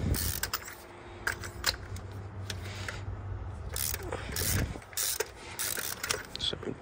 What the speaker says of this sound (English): Wanna get your ratchet.